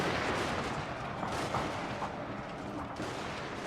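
Pistol fire in the battle game Total War: Shogun 2 Fall of the Samurai, heard as a dense, continuous roar of rapid gunshots blending into a constant battle din.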